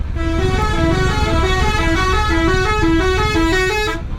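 A bus telolet horn honks in traffic with a loud, close musical melody of rapid repeated tooting notes over engine rumble.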